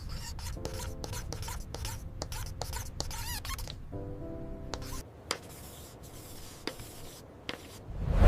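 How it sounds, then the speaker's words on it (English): Pen or chalk scratching out a mathematical formula in quick strokes, a dense run of short scraping marks close up, with a brief pause partway and then more writing. "Let's write down the mathematical formula for this."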